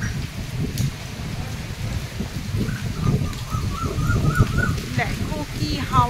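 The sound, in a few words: storm with strong wind and rain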